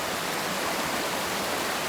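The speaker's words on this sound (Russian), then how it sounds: "Поднялись наверх водопада." The Polkovnichy waterfalls, heard from the top, give off a steady, loud, broadband rush of falling water that holds at an even level throughout, with no voices.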